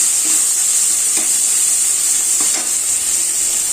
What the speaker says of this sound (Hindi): जो तेल बचा है तो इसी में मैं थोड़ा सा जो मसाला बचा था वो डाल दूंगी और इसको मिक्स कर दूंगी